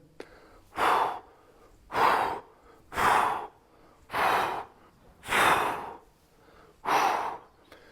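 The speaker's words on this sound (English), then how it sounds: "as it goes down, I breathe out, push the air out" Six heavy, forceful exhalations come one after another during a kettlebell sport pendulum swing, each a breathy burst about every second, close to the mic with quiet gaps between.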